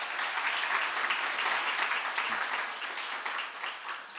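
A church seminar congregation applauds together, a dense, sustained roar of clapping at a steady level across the whole stretch with no speech over it.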